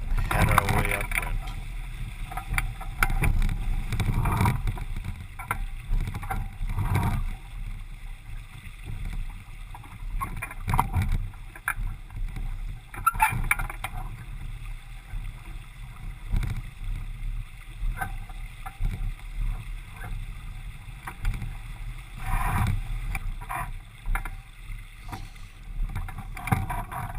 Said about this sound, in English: we'll make a tidy jibe around the mark and head our way upwind